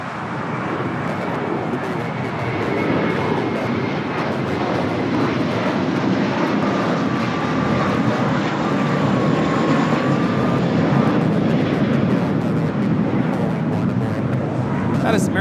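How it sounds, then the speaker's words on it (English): An American Airlines Airbus A321 takes off from LAX bound for Dallas Fort Worth, making a loud, sustained jet engine roar. The roar builds slightly and holds for fifteen seconds, with faint talk underneath. "taking off to Dallas Fort Worth on the A321"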